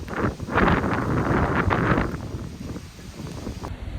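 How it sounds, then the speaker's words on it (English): Strong hurricane wind, gusting into the 50s and 60s mph, buffets the microphone in a loud rumbling gust that builds and then eases off into a softer steady blow. "we're easily getting gusts into the mid 50s and low 60s"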